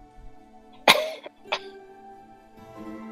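A single sharp cough bursts out, followed by a shorter second cough, both close and loud over a quiet background of faint tones.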